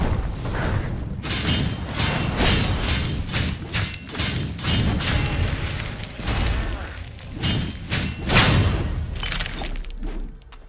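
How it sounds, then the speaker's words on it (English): Flash bombs exploding in Victor Vran: a dense, steady string of crashing, shattering blasts and thuds, loud and rapid, over a constant rumbling background. "Flash bomb."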